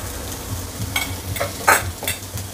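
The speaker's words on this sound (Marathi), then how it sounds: "आता या बटरमध्ये ना मला लसूण घालायचं होता" Grated garlic hits melting butter in a pan, crackling and sizzling loudly with bursts of spattering and stirring, close up and without talk.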